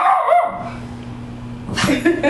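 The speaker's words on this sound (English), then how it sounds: "Go get that dog." A dog barks sharply up close, a couple of short yips at the start and another burst near the end, with whimpering and rustling between them.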